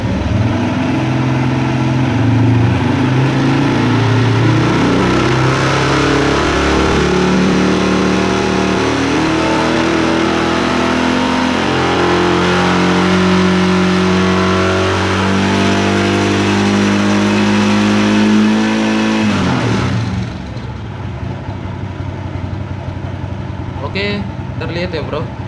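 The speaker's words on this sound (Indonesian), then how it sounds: "sekarang kita coba naikkan" A motorcycle engine revs up from idle during a battery charging check, its pitch rising and holding in a loud, continuous drone before it drops back down near the end. A person talks over the engine.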